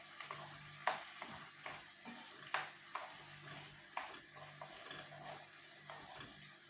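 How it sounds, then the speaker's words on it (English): Garlic sizzles with onions in a pan for butter chicken, a soft steady frying hiss broken by occasional clinks of a utensil stirring, faint and close with no talk. "And now I'm going to go in with some garlic."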